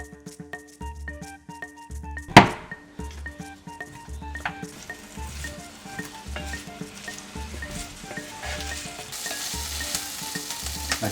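Peppers and onions sizzle in a Le Creuset tagine, with a steady frying hiss that builds after a sharp clatter near the start, plus rhythmic stirring scrapes and a low hum throughout.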